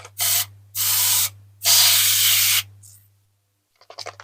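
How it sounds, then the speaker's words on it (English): Three close, loud hissing bursts of Mr. Muscle oven cleaner sprayed from an aerosol can onto a diecast Matchbox F1 car, with short pauses between them, followed by a few faint clinks. "spray some Mr. Muscle oven cleaner on"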